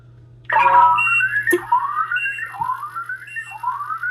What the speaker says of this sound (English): it's got the beeps and boops as a track